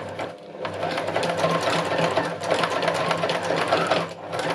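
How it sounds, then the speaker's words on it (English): Sewing machine running steadily in free-motion embroidery, stitching fabric down from the wrong side, a continuous close, loud motorised whirr with rapid needle pulsing and slight speed variations throughout. "I'm just simply going to stitch this little bit of stuff down."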